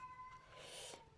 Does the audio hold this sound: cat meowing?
yes